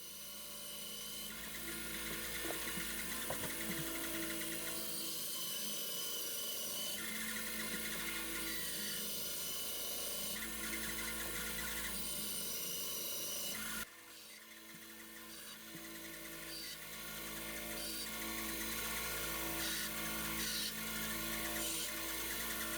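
Redwood stadium seating wood being sawn into small square ring-blank pieces with a power saw, a steady loud continuous cutting whine lasting throughout with a brief dip midway.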